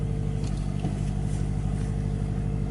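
A 2013 Scion FR-S sports car engine idles steadily nearby, a continuous low hum with faint mechanical clatter and no voices.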